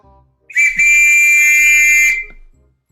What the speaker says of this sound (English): driver blew the whistle